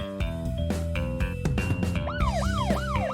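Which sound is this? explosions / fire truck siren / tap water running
fire truck siren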